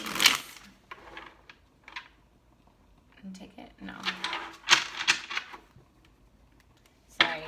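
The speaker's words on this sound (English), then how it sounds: "this is going to be our last shuffle" Tarot cards being shuffled in quick riffling bursts at the start, middle and end, close and crisp, with a person speaking briefly in between.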